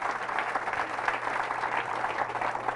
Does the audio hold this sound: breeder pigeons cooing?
no